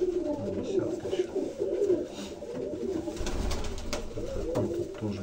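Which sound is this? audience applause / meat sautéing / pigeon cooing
pigeon cooing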